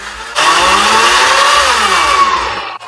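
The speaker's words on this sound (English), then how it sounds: "and let's go blend that up." A kitchen blender whirs loudly as it purées banana chunks with milk, starting abruptly, holding a steady high motor whine with a slight pitch drift for a couple of seconds, then cutting off.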